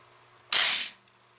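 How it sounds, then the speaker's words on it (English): An AR-15 rifle's bolt catch released, with the bolt slamming closed: a single sharp, close metallic clack that ends quickly in a quiet room. "So I'll push that to release the bolt catch."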